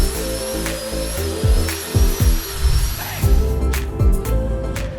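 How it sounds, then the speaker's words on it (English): A power drill bores a hole through a boat hull for a transducer, its motor loud and close, rising and bogging in repeated uneven pulses as the bit bites into the fiberglass. "I just need to drill a hole."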